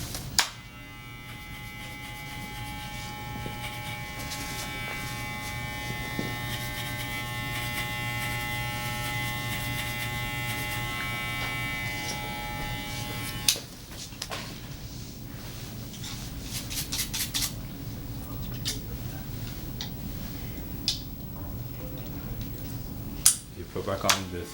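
Electric hair clippers with a 3/16 guard buzz steadily while fading an Afro-centric haircut, a close continuous hum that shifts tone partway through as the blade meets hair, with brief clicks near the end.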